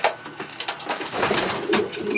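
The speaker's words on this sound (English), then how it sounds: "most of these birds in here are all pigeons" Pigeons coo steadily in a loft of stock birds, several overlapping calls close by with bright flutters and rustling between them, no talking.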